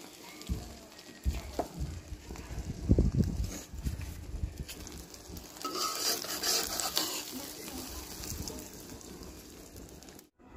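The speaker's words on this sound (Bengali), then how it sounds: "ডিম ভাজিটা তুলে নিয়েছি।" A fried egg lifted out of a wok over a wood-fired stove: scraping spatula clatter and soft sizzle, a few sharp knocks early and a brighter hiss in the middle, no talk.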